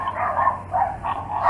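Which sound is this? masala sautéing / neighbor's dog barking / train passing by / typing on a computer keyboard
neighbor's dog barking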